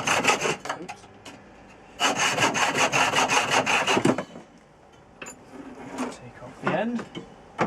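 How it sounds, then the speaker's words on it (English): Hand sawing through wood in rhythmic bursts of back-and-forth strokes, with a pause between sets and a few short rasps near the end. "and then we're just going to saw"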